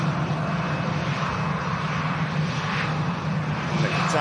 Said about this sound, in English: The Qatar making light work of the touchdown.